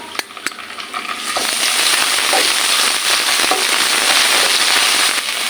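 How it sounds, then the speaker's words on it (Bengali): Garlic, ginger and onion paste fries in a pan with a steady, close sizzle and crackle, opening with a few sharp pops before the frying settles into a dense, continuous hiss. "এখন আমি এটা একটু ভালোভাবে ভেজে নিব"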